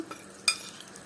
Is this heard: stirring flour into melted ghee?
yes